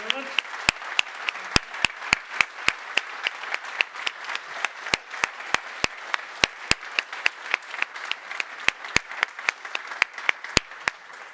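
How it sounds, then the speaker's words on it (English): Sparse, individual claps from a small conference audience at the center stage of Neos Conference 2024, sounding as distinct sharp hits spread irregularly across the stretch, fairly faint. "And this is your applause."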